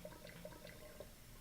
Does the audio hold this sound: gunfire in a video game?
no